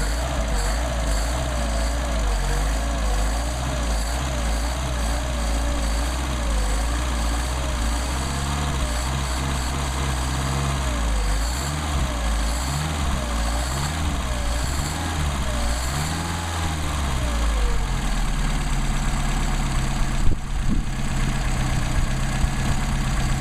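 A Mercedes 190SL engine fitted with Solex 44PHH carburetors idles steadily on a mild day, a continuous low throbbing rumble with slight wavering in pitch. It stays up close and alone throughout, with a small rise in level near the end.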